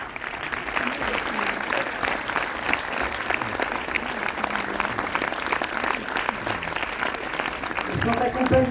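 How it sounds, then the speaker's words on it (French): A cinema audience at a film premiere applauds the producers, sustained dense clapping throughout that swells slightly near the end, with faint voices mixed in. "je vous demande d'abord d'applaudir les deux producteurs de ce film, que sont Aimé Budil et Julien Madon."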